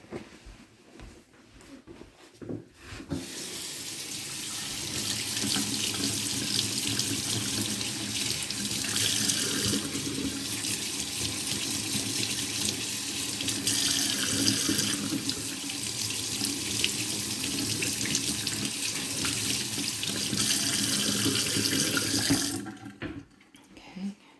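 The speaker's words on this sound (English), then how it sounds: "Okay, so I'm going to rinse it out again." A cleaning cloth rinsed under a running kitchen tap, with water splashing steadily into the sink for about twenty seconds, close and continuous, then cut off.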